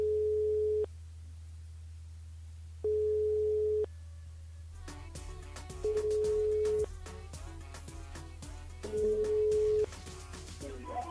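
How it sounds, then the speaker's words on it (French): A telephone ringback tone on a call repeats as steady electronic beeps about three seconds apart, the first two alone against a low hum; the later ones sit under loud, busy background music from a live radio broadcast. "Ah, là ça sonne. Ça sonne."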